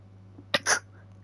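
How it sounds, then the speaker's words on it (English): One close, short sneeze, a sharp burst followed by a slightly longer noisy release over a low steady hum, in a quiet room. "Sorry for the sneezes."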